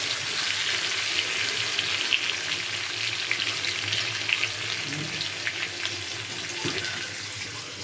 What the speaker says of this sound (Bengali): টমেটোগুলো এর সঙ্গে এখন একটু ভেজে নেব, ভাজা ভাজা করে নেব।